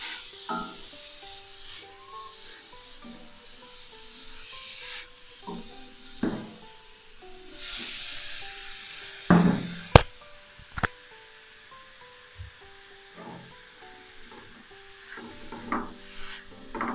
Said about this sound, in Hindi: अब हम इसमें थोड़ी थोड़ी करके गाजर डाल लेंगे।